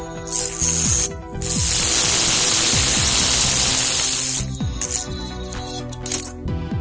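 A plasma speaker's arc gives a loud, harsh hiss during a frequency test. Sweeping tones and buzzing overtones rise and fall through a dense static roar, with a brief dip partway before the noise continues.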